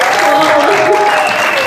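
Audience applause at a televised singing competition, loud and dense, a continuous burst of clapping from a crowd close by for the whole moment.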